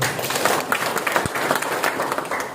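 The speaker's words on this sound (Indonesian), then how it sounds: "Tepuk tangan PTPS." Audience applause at a talk, a dense patter of many hands clapping, fairly close and steady throughout, with a brief thump partway through.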